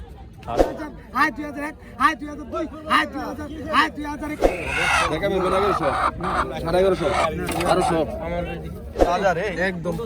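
Chickens cluck and squawk in bursts amid a busy crowd at a fish and vegetable market in Bangladesh, with several voices talking loudly over them.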